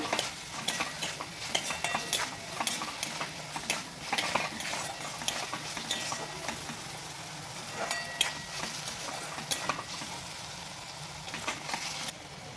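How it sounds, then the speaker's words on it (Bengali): A spoon scrapes and stirs ground coriander, cumin and salt in a hot pan for chicken chowmein, giving a busy, close clatter over a soft sizzle of frying, with no talk. "দিয়ে দেওয়ার পরে এটাকে ভালোভাবে মিক্স করে নেব"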